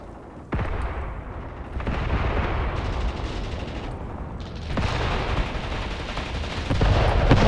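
A mortar barrage lands in the wargame Graviteam Tactics, hitting machine-gun positions. Deep booming impacts arrive one after another and build into a heavy, rumbling roll of explosions with scattered gunfire underneath.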